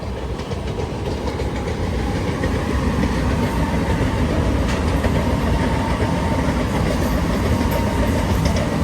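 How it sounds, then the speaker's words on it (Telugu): A MEMU train rushes past close by on the track, a loud continuous roar with rapid clickety-clack of wheels over rail joints that holds steady throughout, with no voices. "అటే పోక మెమో ట్రైన్ అయితే వచ్చేస్తుంది దూసుకుంటూ"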